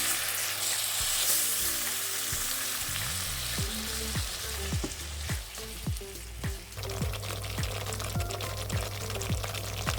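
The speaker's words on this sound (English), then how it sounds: "Fry this for a minute or so before adding the diced tomatoes." A vegan chickpea curry base sizzles and fries in a pan, loud steady crackling with scraping stirs and a brief pour-like splash partway through.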